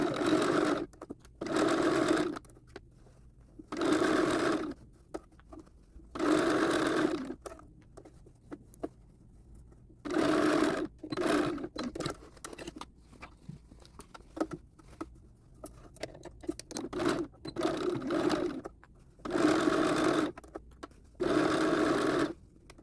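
A domestic sewing machine stitches the lining and front edges of a doll's coat made from McCall's 7301, running in repeated short bursts of rapid, close patter, separated by quiet pauses with faint handling sounds.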